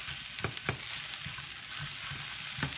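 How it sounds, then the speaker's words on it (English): Onions fry and are stirred in a pan with a steady, close hiss of sizzling, punctuated by a few soft scraping stirs. "We'll just continue to stir that, give it a little stir fry."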